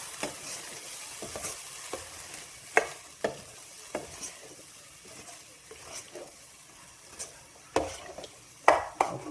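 Egg masala with tomato, onion and ground coconut sautéing in a pan, giving a steady sizzle under a spoon that scrapes and clinks against the pan in irregular strokes.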